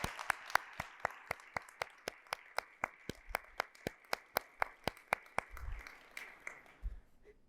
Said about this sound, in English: Let's give all of those partners a round of applause.